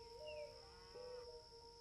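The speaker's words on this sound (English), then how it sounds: "Wait, cow. Where the heck is there a cow?" A cow moos in the video game Walden, a short, low, drawn-out call over a steady ambient tone with soft nature background, fairly faint in the mix.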